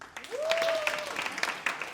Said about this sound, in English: Ladies, I want you to clap if you've lived with your significant other for like longer than 2 years.